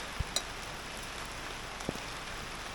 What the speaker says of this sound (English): it's just a light rain